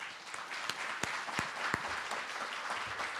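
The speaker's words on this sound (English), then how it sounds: "So I'd really like to just give another round of applause for John Joya" Applause from the audience at a policy breakfast, a steady patter of many hands at moderate distance with a few sharper, louder claps standing out.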